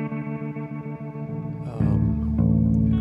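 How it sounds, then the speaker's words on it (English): Live band performance, heavy with echo and chorus effects, sustained guitar tones swelling louder partway through and ringing out with repeating reverberant tails. "You're hearing some echo, that's good."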